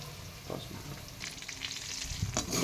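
Grated coconut fries with lentils, mustard seeds and curry leaves in a pan over low heat, giving a steady close sizzle broken by soft stirring scrapes and a few light pops.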